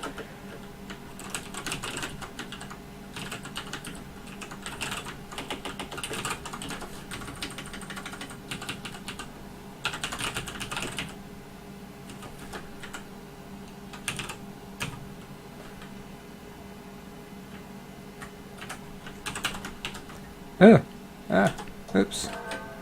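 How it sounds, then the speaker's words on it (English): Typing on a computer keyboard while working in a modal text editor, with steady bursts of soft key clicks through most of the stretch and a few sharper, louder taps near the end, under intermittent talk. "Sometimes you press the wrong keys in command mode."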